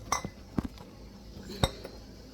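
Glass jar and metal ladle clinking a few times while applesauce is ladled in for home canning, sharp isolated clinks close by against a quiet kitchen background.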